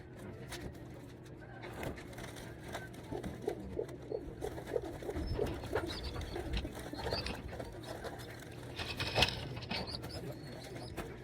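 Pigeons, NDR racing birds, coo softly inside a training box, with low repeated murmurs and faint rustling and shuffling scattered throughout, heard quietly at close range with no talking.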